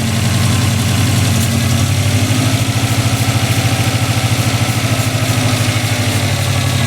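A car engine idles steadily up close with a continuous low, even throb, while exhaust and boost plumbing is checked for leaks; no talking.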